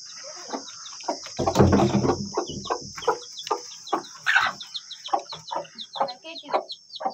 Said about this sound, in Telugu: ఈ కోడి ఎన్ని పిల్లలు చేసినా బాగా తిప్పుతుంది